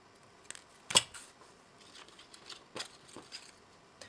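Scissors snip thread during a pop-up lotus flower card craft, one sharp close cut followed by a few lighter clicks and handling sounds, quiet and without talk.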